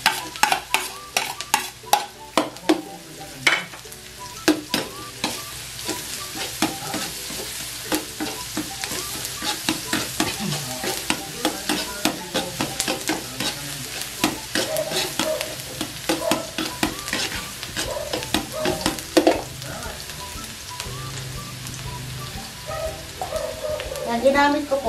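Garlic sizzles in hot oil in a pan for spaghetti sauce, a steady crackling fry broken by repeated sharp scraping clicks of stirring, close up, with a person talking over it now and then.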